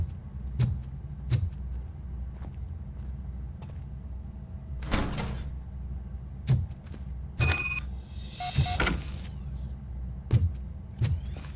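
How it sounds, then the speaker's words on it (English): Mechanical door sounds from the RoboCop Rogue City shooter game: a series of sharp clunks and a whooshing slide, with a high electronic chirp and rattle near the end, all fairly close against a quiet background hum. "Now let me get that door open for you."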